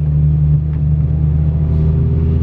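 A manual transmission car pulling away in first gear, its engine a loud, close, steady low rumble that builds slightly as it accelerates.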